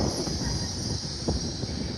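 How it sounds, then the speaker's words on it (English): LNER Azuma train arriving at a platform at York station, a steady close rumble of wheels on rail with a high whine and brief squealing, continuous and fairly loud with no voices. "Also arriving in now is a LNER Zoomer."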